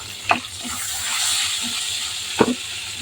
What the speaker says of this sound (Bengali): এখন তেলে আমি আস্ত গরম মশলা চিনি এলাচ আর তেজপাতা দিয়ে দিলাম